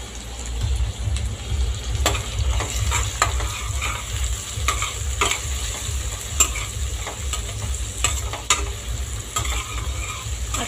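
Tomato goes into a frying pan with garlic and curry leaves for a prawn curry, sizzling and crackling steadily while a spoon stirs and scrapes against the pan, close up and without talk.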